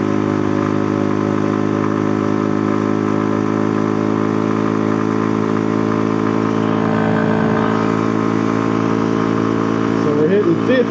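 A street mini bike engine pulls hard uphill at around 50, holding a steady droning tone with layered harmonics that climbs slightly near the end, loud and close under wind rush.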